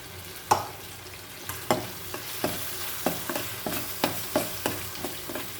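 A ground masala paste frying in oil for a fish dish, stirred with a spoon that knocks against the pan in regular sharp scrapes over a continuous soft sizzle, with no one speaking.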